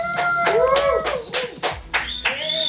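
Several sharp hand claps, irregular and spaced apart, over bright whistling tones and sliding electronic sounds.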